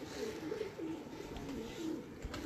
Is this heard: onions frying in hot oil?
no